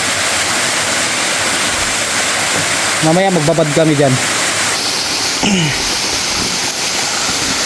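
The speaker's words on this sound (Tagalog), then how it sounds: "Pero at least waterfalls, bumabagsak yung tubig, di ba?" Steady rushing water from a small waterfall over smooth rocks fills the whole clip, with people talking briefly over the constant splash.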